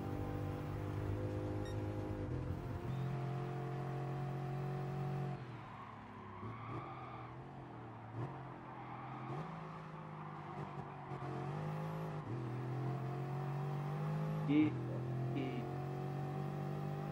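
A Ferrari race car engine drones steadily through a Gran Turismo Sport race, with shifting pitch, a few tire squeals and a Porsche running close by; someone talks over it at times.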